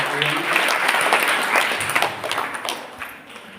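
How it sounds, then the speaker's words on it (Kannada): Audience at a temple mutt event in a village near Vijayapura applauds together, dense clapping holding strong then thinning and fading toward the end. "ತಮ್ಮೆಲ್ಲರ ಒಂದು ಭಕ್ತಿಯ ಜೋರಾದ ಚಪ್ಪಾಳೆಯೊಂದಿಗೆ ಈ ಕಾರ್ಯಕ್ರಮಕ್ಕೆ"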